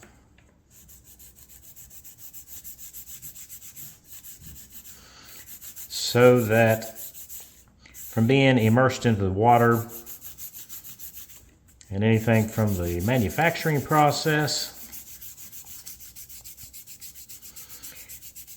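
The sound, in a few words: sanding wood with fine sanding stick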